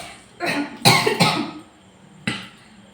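Several coughs from a person in a home kitchen: a burst of two or three harsh, close coughs near the start, then a single sharp cough after a short pause, with no talking.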